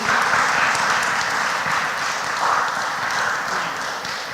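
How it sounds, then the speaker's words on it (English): Audience applause for candidates at a League of Women Voters candidates forum, a steady wash of many hands clapping that holds evenly throughout without talk. "And our audience can applaud our candidates at this point."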